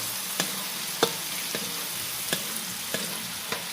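Onion sautés in melted butter with a continuous close sizzle, punctuated every half second or so by soft scraping stirs, no voices.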